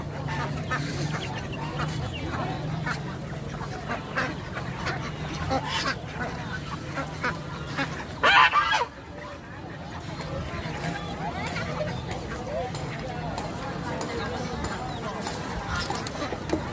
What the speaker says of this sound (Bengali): এগুলি হচ্ছে দেশি হাঁস,